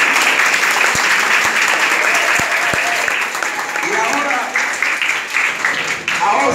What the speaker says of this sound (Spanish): yo quiero que ustedes primero se tributen ustedes un aplauso fuerte